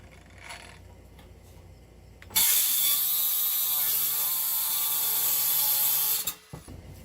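A Lennox blade cutting metal during a mud room addition build, a loud harsh steady shriek lasting about four seconds after quieter handling noises, ending abruptly.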